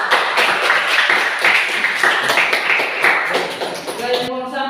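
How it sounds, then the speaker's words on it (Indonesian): A classroom group claps in a fast, dense patter of overlapping hand claps for several seconds, fairly close and loud, tailing off as a voice begins. "Jadi beri aplaus untuk kelompok 2."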